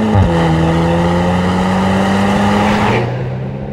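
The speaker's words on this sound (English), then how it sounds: "running it right to the red line in every gear, downshifting with the paddles" A 2024 Volkswagen Golf R engine revs hard toward redline, a loud close steady drone that holds a high pitch for about three seconds, then drops as a paddle downshift cuts in.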